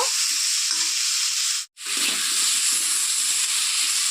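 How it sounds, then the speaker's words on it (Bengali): Sliced potatoes fry in oil as part of a bata fish curry. A loud, continuous sizzling hiss fills the clip and cuts out briefly once midway before resuming. "তো আলুগুলোকে এখন একটু লাল লাল করে ভেজে নেব"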